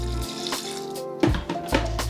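Water is poured into a blender holding chickpea flour for a vegan pancake batter, with a close splashing gush broken by short pauses and sloshing bursts.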